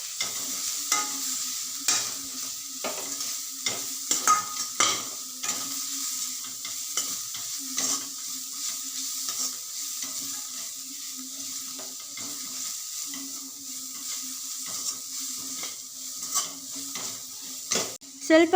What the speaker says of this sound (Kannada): ಅದನ್ನೆಲ್ಲ ಹಾಕ್ಕೊಂಡು ಅದನ್ನು ಕೂಡ ಚೆನ್ನಾಗಿ ಫ್ರೈ ಮಾಡ್ಕೊಬೇಕು